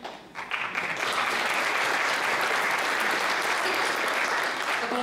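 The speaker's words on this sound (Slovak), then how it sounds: "To bolo pre všetkých ten potlesk." Applause at a gala evening awards ceremony, a packed audience clapping loudly and steadily after a brief swell at the start, continuing unbroken to the end.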